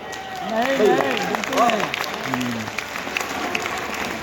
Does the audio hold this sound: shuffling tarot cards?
no